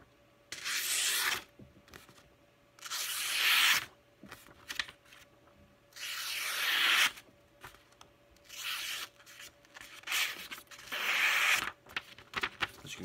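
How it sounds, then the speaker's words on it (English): A freshly sharpened knife slices cleanly through a sheet of paper several times, each cut a crisp hissing rasp lasting about a second, separated by quiet pauses. "I'm not forcing this knife through the paper."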